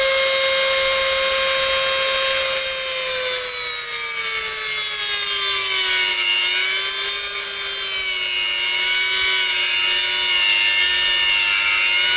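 Steady sawing on the Alpina ABR 42 D brushcutter during installation of a Chinese cylinder, a continuous rasping, rubbing stroke with a sustained whining tone that shifts slightly in pitch, close and fairly loud, with no talk.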